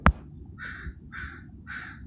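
Three harsh crow caws ring out at an even pace, moderately loud and fairly close in a backyard with a pear tree, after a sharp knock at the start.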